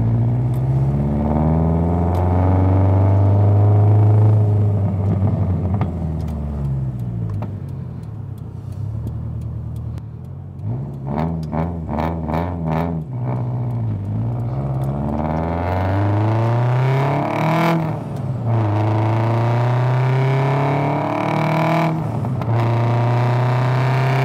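Subaru STI accelerating hard in a full pull, loud engine note climbing through gears with repeated rising sweeps, shift pauses and crackling pops between them.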